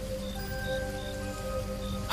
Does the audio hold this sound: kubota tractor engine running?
no